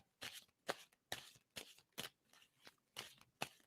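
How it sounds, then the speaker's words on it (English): Tarot cards being shuffled in quick, crisp bursts, about eight riffles in a steady rhythm, close and quiet with no talking. "tell me when I should stop shuffling on that"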